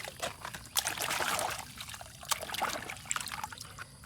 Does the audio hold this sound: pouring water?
yes